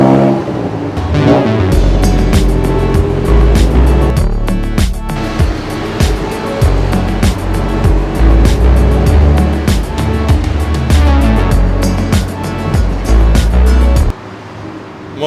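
A river boat in Thailand roars as its motor revs up and speeds along the water, a loud continuous engine drone with splashing and wind rushing over it, cutting off abruptly near the end.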